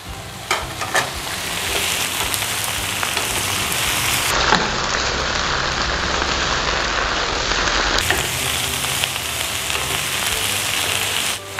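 Sea cucumber frying in a pan with mustard greens, a steady, loud, dense sizzle and crackle that runs without a break from start to finish, close up and with no voices over it.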